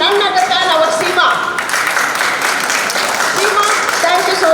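An audience at a Rotary Club installation ceremony applauding, a steady wash of clapping from many hands throughout, heard under a voice speaking over it.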